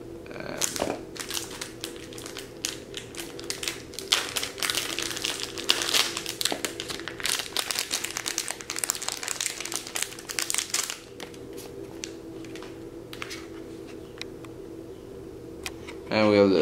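Compact flash card pulled from an Akai MPC500 sampler, heard as close plastic clicks, scrapes and crinkly handling noises that come in bursts, with a voice talking throughout.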